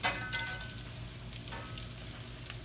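Almond crusted tilapia frying in hot oil, a steady close sizzle with a constant crackling hiss throughout, no talking.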